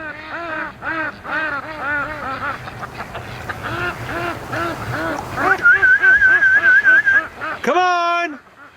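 A new duck-calling whistle sounds among a flock of raised ducks: a warbling trill of about two seconds rises over steady nearby quacking, and a loud drawn-out honk follows right after.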